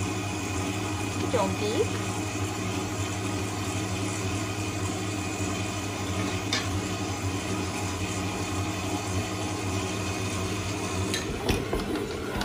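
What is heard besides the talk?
electric mixer kneading dough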